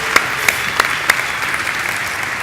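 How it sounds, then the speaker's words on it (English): Conference audience at PyCon UK 2018 lightning talks clapping for the speakers, a dense continuous round of applause with a few louder individual claps standing out, no talking over it. "round of applause for all our speakers"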